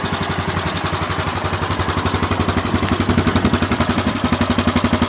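Small engine, started with a little choke, runs in a loud, close, rapid rhythmic chug, its pulses steady and slightly quickening toward the end, with no talking.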